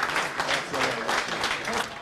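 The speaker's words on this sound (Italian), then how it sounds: "Quindi un applauso." A burst of audience applause for the president at a sports awards evening, lively clapping with a faint murmur of voices mixed in.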